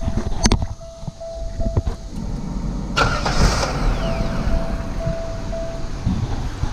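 A 1997 Pontiac Grand Prix GTP cranks and starts after its fuel pump wiring was redone, with a few clicks first, then a brief crank catching into a steady close idle.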